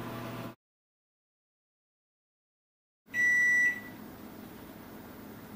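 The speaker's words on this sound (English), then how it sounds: "There's the buzzer." Kitchen timer beeping as potato celery root soup finishes cooking: a single bright, steady electronic tone sounds for under a second, close and fairly loud, over a low room hum.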